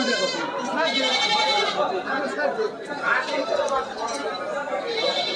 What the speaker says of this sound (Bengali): এই যে পাশে আমরা পুরো হাটটা ঘুরে ঘুরে দেখছি, মা ছাগলগুলো আছে।